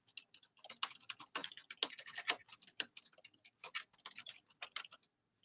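Rapid typing on a computer keyboard, a steady run of close, crisp key clicks in uneven bursts with brief pauses and no talking.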